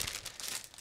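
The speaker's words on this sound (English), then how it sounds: "So what I'm doing right now is opening the first plastic bag which was inside." Plastic bag of model kit parts for a 1/35 scale artillery tractor and PaK40 gun being opened, a short burst of close crinkling and tearing plastic, alone with no talk.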